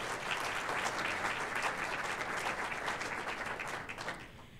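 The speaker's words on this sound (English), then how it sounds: "Can we give him another round of applause?" Dense, sustained audience applause fills a university graduation ceremony at UGA Griffin, a steady wash of many hands clapping that thins out toward the end.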